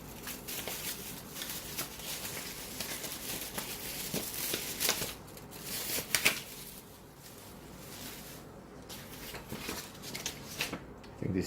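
Paper warranty card and user manual from a Cornell thermos pot box being handled, with close, quiet rustling, shuffling and tapping that runs steadily through the stretch.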